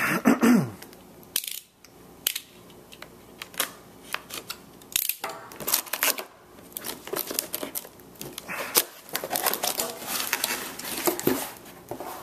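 Stickers being cut on a Sony PlayStation 4 box during an unboxing, with close crinkling, scraping and clicking handling noises in irregular bursts, no talking.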